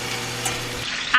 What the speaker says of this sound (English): season it on both sides, sear it on both sides, brown it on both sides